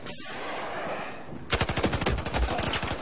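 Rapid automatic gunfire in the video game Battlefield 4 during a multiplayer Conquest match, a loud burst of close shots following a stretch of steady background noise, no voices.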